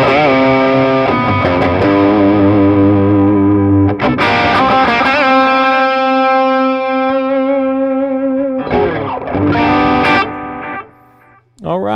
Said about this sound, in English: It's a very inexpensive delay pedal, and I love that modulation on top there.